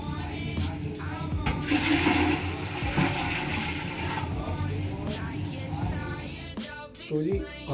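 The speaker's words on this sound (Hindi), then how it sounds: "पानी भरने का टाइम आ गया" Water running into a container at home, a steady rushing, gurgling flow with a mechanical hum beneath it, continuing at moderate level throughout.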